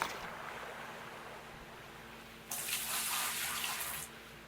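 Water pours into a bucket in the Gold Rush gold mining simulator game, a steady rushing splash that grows louder and brighter for about a second and a half before settling back to a softer wash.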